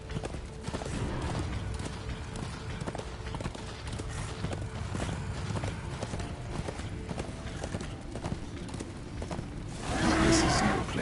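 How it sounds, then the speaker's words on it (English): Steady rhythmic clip-clop of horse hooves from the video game Darksiders 2, continuous and moderately loud, with a brief louder burst near the end. "This is no place for a horse."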